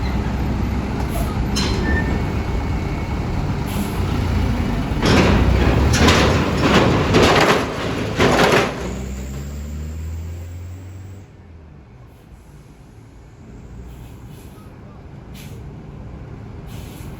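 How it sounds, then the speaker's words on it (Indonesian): A bus at the Merak–Bakauheni ferry port gives several loud air-brake hisses in a cluster near the middle, over a steady engine idle and port bustle that then fades to a quieter low rumble. "Ada bus Raja Basa Utama."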